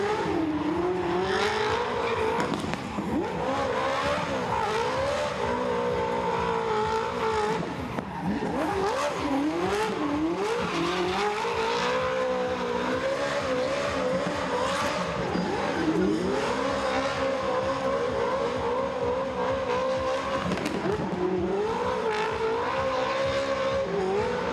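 A Ferrari 458 V8 engine in a Toyota GT86 drift car screams and wails as it repeatedly accelerates and backs off during a drift competition, with tire squeal, loud and continuous throughout.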